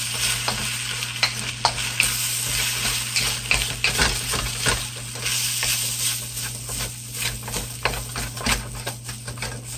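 Leftover stir fry tossed and scraped in a wok with the heat just turned off, a steady soft sizzle with repeated light stirring clatters and scrapes throughout, close and alone.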